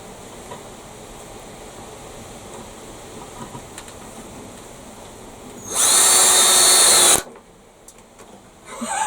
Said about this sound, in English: I knew the screw was going to be ever so slightly too long, but I screwed it to the workbench